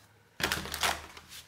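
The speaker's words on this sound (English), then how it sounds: "I'm going to shuffle your cards" Tarot cards being shuffled, a papery riffle and shuffle that starts abruptly after a quiet moment and keeps going with fluttering bursts to the end.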